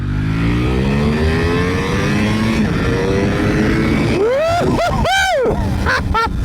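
A Ducati Panigale V4R motorcycle engine revs hard in sport mode during a quick pull, pitch climbing steadily then dropping and jumping through rapid quick-shifter gear changes, loud and close over constant wind roar.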